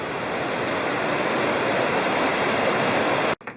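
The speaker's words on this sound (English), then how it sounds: "there's the Sycamore Creek coming in from the left right there" Sycamore Creek pours into the Tellico River in the Cherokee National Forest, a steady, close rushing of water holding at an even loudness before cutting off abruptly near the end.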